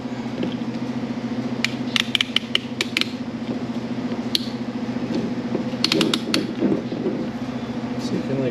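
A pressure clamp is cranked down tight while bait is being made, with close clicking, ratcheting and creaking over a constant low hum in a workshop.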